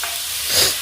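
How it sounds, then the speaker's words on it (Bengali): Fish frying in a pan for a home-cooked fish curry with potatoes and beans, a short hissing sizzle with a soft swell of stirring near the end, close and alone. "এখানে মাছগুলো ভেজে নিচ্ছে মা।"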